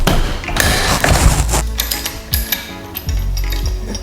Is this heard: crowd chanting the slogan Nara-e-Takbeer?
no